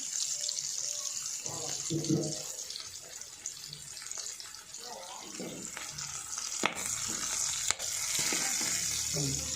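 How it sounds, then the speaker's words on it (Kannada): Green chillies frying briefly in a pan for tomato chutney give a steady sizzle with occasional stirring scrapes and two sharp utensil knocks, with a little running-water-like hiss underneath. "ಮೆಣಸಿನ ತೊಗೊಂಡು ಅದನ್ನು ಒಂದು ಸ್ವಲ್ಪ ಫ್ರೈ ಮಾಡೋಣ"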